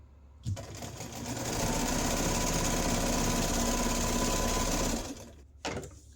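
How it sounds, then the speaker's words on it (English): A sewing machine stitches all the way around the edges of a fall leaf wreath pillow cover, running in one steady, loud, continuous whir for several seconds, then stopping, followed by a brief handling sound. "And now we stitch around, all the way around."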